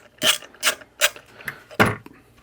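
A ratchet works screws out of a Wolfbox WDR rear-facing camera mount, giving five separate close, sharp bursts of clicking with short pauses between them.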